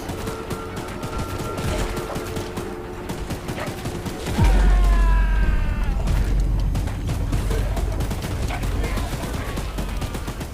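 Gunfire from a mounted gun aimed at a monster in the horror game Choo-Choo Charles: a loud sustained rapid-fire barrage with heavy low booms and mechanical clanks, over a droning engine and whining metallic shrieks.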